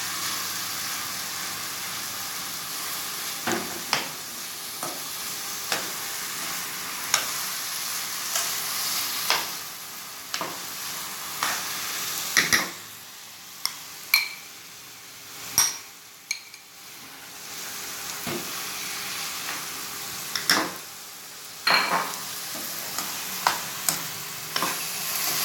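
Carrot halwa with khoya is stirred in a pan: repeated scraping strokes and sharp clinks of a spoon against metal over a low, quiet sizzle, without talk.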